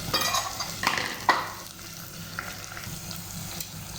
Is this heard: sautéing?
yes